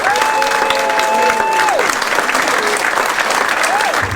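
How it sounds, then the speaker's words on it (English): A football club audience gives a loud, sustained round of applause that fills the whole stretch, with a few clear tones gliding over the dense clapping. "So can you give them a nice round of applause?"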